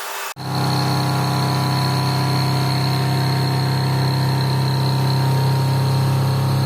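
A milling cutter with worn teeth machines metal, starting abruptly after a brief silence and then holding a loud, steady drone with a sustained high whine, continuous and close.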